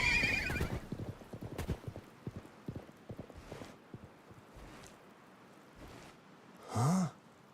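Horse in the video game Live A Live, with quick clip-clop hoofbeats galloping up front, then thinning out, before a short, loud whinny near the end.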